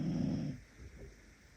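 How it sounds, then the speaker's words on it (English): A dog snores close by, giving one loud, rumbling breath that fades into quieter, softer snuffles, with no voices present. "Big snores."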